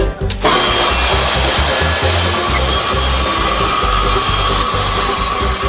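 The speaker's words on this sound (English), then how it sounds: "you can use that same technology to turn your power tools on and off" A power tool cuts through wood with a loud, continuous, rough grinding drone that starts abruptly after a brief pause and carries on steadily, and no one speaks.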